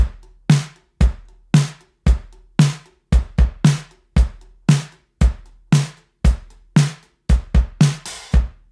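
A drum kit plays a simple rock beat, with steady alternating kick and snare hits ringing out cleanly and loudly with no other instruments.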